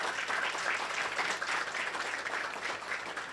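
Continuous round of audience applause at a formal Portuguese-language ceremony inaugurating a vice president and council members, even and moderately distant, with no voices over it.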